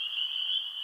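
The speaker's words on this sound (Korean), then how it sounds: "어디선가 구슬프기 그지없는 개구리의 울음소리가 들려왔습니다." A frog croaks in a steady, sustained trill, moderately loud and close, with no voices or other sounds.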